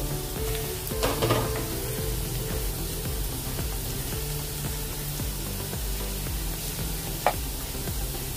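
Carrots sizzle steadily in a hot frying pan for several seconds, a continuous close crackle with a brief stirring clatter near the start and a sharp click toward the end.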